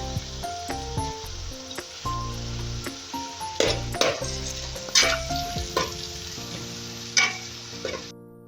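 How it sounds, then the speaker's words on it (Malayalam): Curry leaves hit hot oil in a pan of chicken curry with onions and are stirred, giving a steady close sizzle with scraping stir strokes and tonal music underneath. "ഈ സമയം 2 തണ്ട് കറിവേപ്പില ഇട്ട് ഇളക്കി കൊടുക്കാം."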